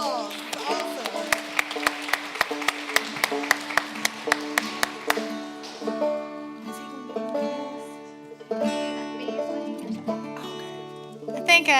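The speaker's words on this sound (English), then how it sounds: "Everybody give yourself a round of applause" Audience applause at an instructors' concert: a dense round of clapping for about five seconds, then sustained musical tones take over as the clapping dies out.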